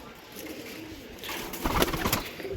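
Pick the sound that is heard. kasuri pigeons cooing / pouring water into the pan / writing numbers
kasuri pigeons cooing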